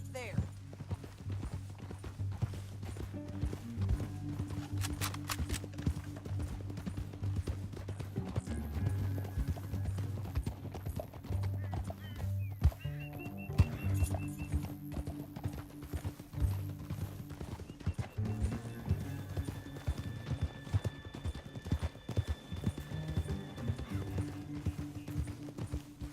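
Steady clip-clop of horse hooves with occasional neighing, mixed with voices and background music throughout, in the video game Red Dead Redemption 2.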